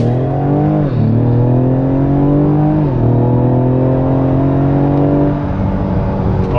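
A Ford Explorer ST SUV launching hard with traction control off. The engine roars loudly and steadily, its pitch climbing and then dropping sharply at two gear shifts before it rises again.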